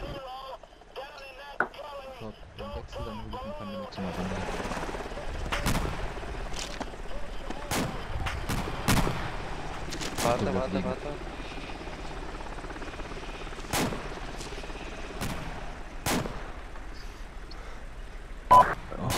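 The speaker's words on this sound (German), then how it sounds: "Schussgeräusche aus Nordwesten." Gunfire in the video game ArmA 2, with sharp cracks of shots scattered irregularly throughout, some near and loud, others distant, over a steady helicopter-like drone, with a few words of speech briefly heard.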